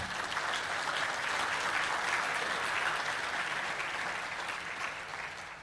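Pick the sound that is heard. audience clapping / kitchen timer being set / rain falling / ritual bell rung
audience clapping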